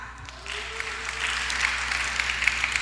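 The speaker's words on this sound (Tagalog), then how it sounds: "Palakpak." A church congregation breaks into applause during a sermon, a broad wash of clapping swelling after a brief lull and holding steady at moderate loudness, with a faint tone running beneath.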